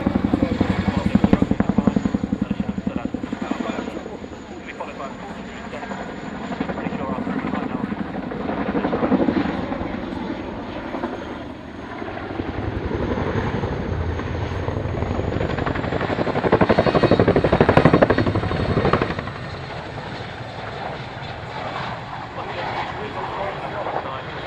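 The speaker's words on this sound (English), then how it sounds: "The aircraft today is Chinook Mark II" A Chinook Mark II helicopter flies at the Fairford 2011 air show, its heavy rotor thump and engine roar loud and continuous. The sound swells and fades as it passes, with an announcer and radio chatter talking over it.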